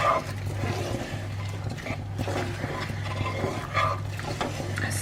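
Chopped onions are stirred and broken up in a pan with a utensil, giving a continuous scraping, shuffling texture over a steady low hum.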